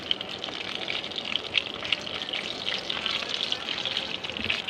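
Black cumin seeds, added with dried red chilies, fry in hot oil for a meat and vegetable khichuri, making a steady, dense, close sizzle with faint crackles throughout and no speech.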